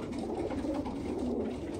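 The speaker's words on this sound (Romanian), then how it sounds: "Aceștia sunt porumbeii pe care am vrut să vi prezint" Domestic pigeons coo softly in a loft, a low murmuring chorus of overlapping calls that runs steadily throughout, fairly faint and with no talking.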